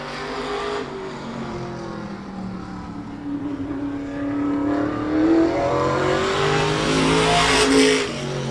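Race car on track at Claremont Motorsports Park, a Louis Rivera-prepared machine in class 5B: an engine drones and rises steadily in pitch as it accelerates, loud and close throughout, with a faint tire squeal near the end.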